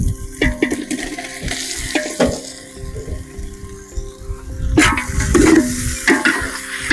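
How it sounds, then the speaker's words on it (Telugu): Bone-in chopped country chicken pieces dropped into a pot for village-style pulao, with wet clattering plops and sizzling, stirring sounds in several bursts. "ఇప్పుడు మనం చక్కగా కొట్టినటువంటి ఈ బొక్కల నాటుకోడిని ఇప్పుడు అందులో"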